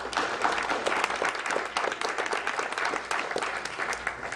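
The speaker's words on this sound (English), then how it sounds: "That seemed like an odd applause line" Debate audience applauding steadily for several seconds, a dense, even patter of many hands clapping throughout.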